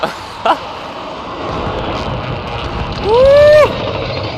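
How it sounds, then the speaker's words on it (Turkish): Precision airstrike aircraft in the video game Warzone, a rising jet-like whoosh with a sweeping tone near the end over a background of game noise, with a brief thump early on. "Air strike seslerine bak. Orada da uçak düşüyor."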